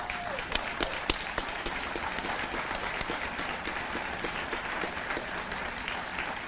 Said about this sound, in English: I'd like the family of Congressman John Robert Lewis to stand so that we can all give them a round of applause